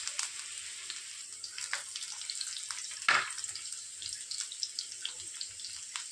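Garlic fries in 2 to 2.5 spoons of hot oil with cumin in a kadhai on a gas stove, a thin, steady hiss with small crackles and one brief louder burst midway, with no speech.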